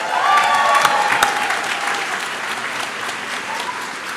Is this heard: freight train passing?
no